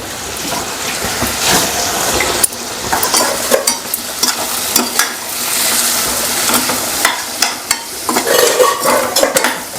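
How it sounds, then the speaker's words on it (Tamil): Masala being sautéed in a pan for a raw plantain curry, with a steady close sizzle and repeated scraping and stirring clinks of a spoon against the pan throughout, no voices. "இந்த மசாலா வாசம் போகிற வரையும் லைட்டாக நம்ம வதக்கி விட்டுட்டு கொஞ்சம் நேரம் சிம்மில் வச்சோம்னா"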